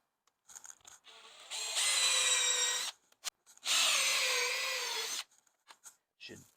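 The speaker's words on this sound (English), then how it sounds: "now I basically got to drill a hole the size of this" Power drill boring a 3/4 inch hole in a Mach 1 car being fitted with a racing harness, two loud sustained bursts of whining, grinding cutting about two and one and a half seconds long, separated by brief clicks and handling noises.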